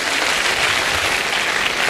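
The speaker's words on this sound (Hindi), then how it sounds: "जोरदार ताली बजाओ सर के लिए भी।" An audience at a speech gives dense, loud applause, a steady wash of many hands clapping together without pause for the full two seconds.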